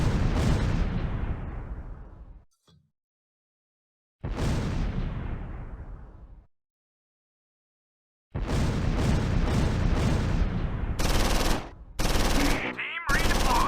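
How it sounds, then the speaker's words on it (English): Heavy mortar and artillery fire in Close Combat 4 rolls out in long loud bursts of rapid blasts, broken by short silences, with sharper cracks layered near the end. "The mortar superimposes on the artillery."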